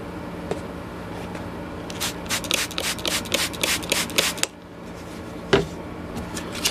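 Hand sanding of an old rusty hatchet head with 800 grit wet-dry paper, close and steady: continuous rubbing strokes that quicken into a rhythmic scrubbing burst in the middle, then ease off with a brief scrape near the end.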